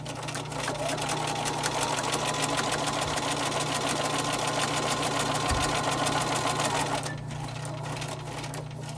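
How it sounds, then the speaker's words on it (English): Sewing machine steadily stitching fabric along a line for foundation paper piecing, a continuous close mechanical whir with rapid needle rhythm that runs about seven seconds, then stops, leaving faint room noise. "I'm going to sew from just beyond the line and down the line between the C2 and C3"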